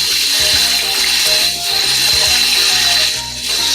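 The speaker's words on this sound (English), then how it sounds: "wash it off, and then put out the water and rinse it off with water" Steady running water splashes loudly over a salmon being rinsed, a continuous close wash with small dips in level and faint knocks, with no talking.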